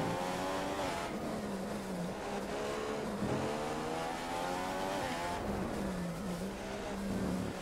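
Force India F1 car with a Mercedes engine in F1 2015 at the Spanish Grand Prix, a high-pitched engine wailing through upshifts and downshifts with rising and falling revs and occasional tire squeal.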